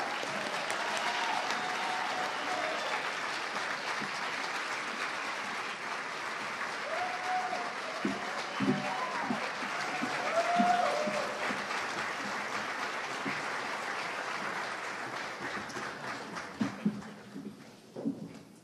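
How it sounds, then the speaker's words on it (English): Audience applause at an Oklahoma gubernatorial debate as the candidates walk onto the stage, a steady sustained clapping from a large crowd that fades out toward the end. "That's one of your chances to clap."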